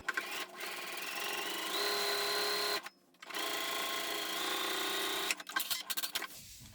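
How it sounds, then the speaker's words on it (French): A sewing machine stitches quilt fabric for a heart-shaped Valentine's quilt in two close, steady runs of rapid needle chatter, split by a short pause, ending with a few handling clicks. "on va coudre ici une première ligne et l'autre ici après"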